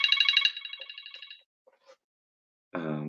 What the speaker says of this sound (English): I'm being thrown off by my cell phone